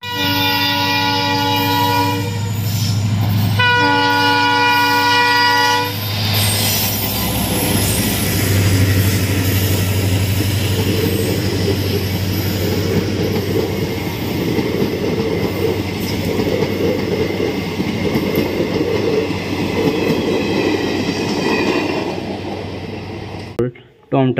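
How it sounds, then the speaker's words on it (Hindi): A toy train runs with its horn sounding, giving two tonal horn blasts in the first six seconds and then a steady, loud mechanical running rumble that lasts nearly to the end. "ये है टॉम ट्रेन कितनी बढ़िया कॉयल इंजन टॉम ट्रेन है"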